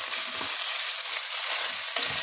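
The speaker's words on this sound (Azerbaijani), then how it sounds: "artıq ətimiz belə deyərdim hazır oldu və göyümüzü töküb biraz da belə qarışdırırıq" Chopped greens stirred into sizzling minced meat filling for blinchiki in a hot frying pan, a steady bright crackle with soft scraping stirs, close and continuous.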